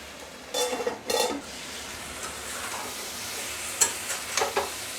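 Mixed vegetables for a hilsa fish curry sizzle in a pan. A spoon scrapes and clinks against the pan in two short bursts near the start and a few times later over a steady frying hiss.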